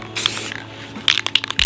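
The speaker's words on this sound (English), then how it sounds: "I'm gonna spray around." Two short hissing bursts of purple spray paint from an aerosol can, the first about half a second long, the second broken into quick puffs, close and fairly loud.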